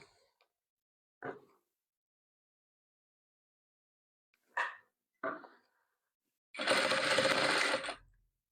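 A sewing machine stitches a row of a patchwork quilt in a quiet room: a few short isolated clicks and whirs, then a sustained run of stitching lasting about a second and a half.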